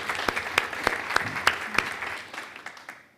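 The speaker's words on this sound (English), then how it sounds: "So let's give her a round of applause." Applause at a Board of Education meeting, a modest group clapping with a few sharp, distinct claps standing out, tapering off over about three seconds.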